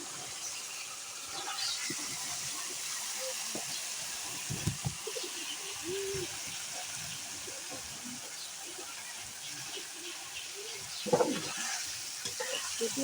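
Chicken pieces go into hot fried spice paste for a village-style Sonali chicken curry, giving a steady low sizzle with stirring scrapes and a few louder clatters near the end, while birds chirp faintly in the background.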